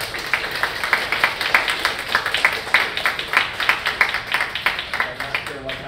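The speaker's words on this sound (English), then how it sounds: "if you can just give a round of applause" An audience gives a round of applause for a guest speaker at a talk, dense clapping running steadily throughout at moderate loudness with no voices over it.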